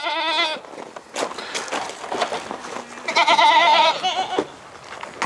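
Goats bleat loudly and repeatedly on a farm during breeding season, with several overlapping wavering calls close by and brief pauses between them.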